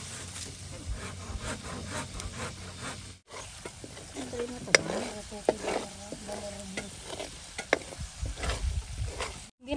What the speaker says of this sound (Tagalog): So guys, lulusawin muna natin yung ating butter.